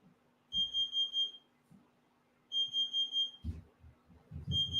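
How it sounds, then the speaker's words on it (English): An oven timer beeps in two bursts of four rapid high tones, with a third burst starting at the end, alongside a faint background hum and some thumps. "the oven's beeping"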